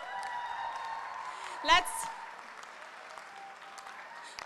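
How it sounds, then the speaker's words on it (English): An audience at a Texas prize-giving ceremony for title-cup winners breaks into a brief burst of clapping, mixed with a speaker's voice over a PA. "I would like to hear Texas style claps all the way."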